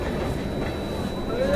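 A Shatabdi Express passenger train on the Rani Kamlapati to New Delhi route runs along the tracks with a close, continuous rumble, and a brief rising metallic squeal near the end.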